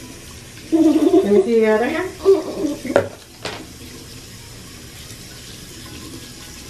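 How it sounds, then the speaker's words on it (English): Water runs from a tap while a small child's hands are washed, starting and stopping after a few seconds, with an adult speaking over the flow and a voice rising in pitch. "Let's wash your hands real quick too."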